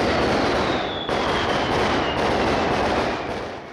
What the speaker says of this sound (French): Les feux d'artifice jouent aussi un rôle dans les fêtes religieuses mexicaines